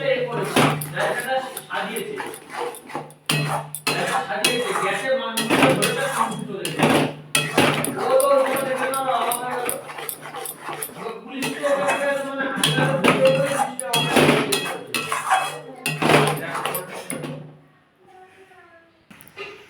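Spinach, paneer, green chili and coriander paste is worked in a pan with a utensil, giving repeated scraping and clanking metal knocks under continuous talking.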